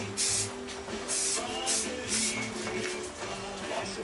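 Aerosol primer sprayed onto a motorbike in steady hissing passes, a continuous close spray with brief dips between strokes.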